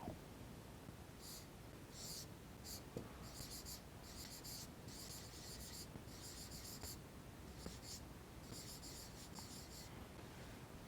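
A pen writes on paper during a Class 6 geometry lesson, giving quiet, close scratchy strokes that come in short irregular bursts over a faint room hiss.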